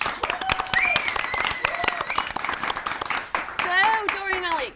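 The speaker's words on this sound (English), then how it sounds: "please round of applause" A studio audience claps for guests, brisk crowd applause running under loud, cheerful talk and whoops from people nearby, with the sharp individual claps standing out clearly.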